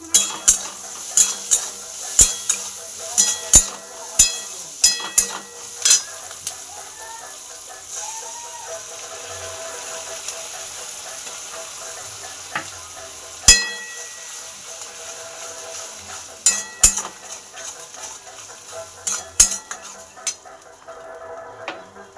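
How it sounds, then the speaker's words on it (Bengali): Mola fish frying in a pan, a steady low sizzle broken by sharp, irregular clinks and scrapes of a utensil stirring and striking the metal, close by. "আর এখানে মোরলা মাছ ভাজা চলছে।"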